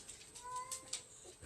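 Pet cats meowing faintly at home, a couple of soft, drawn-out tonal calls over a quiet background.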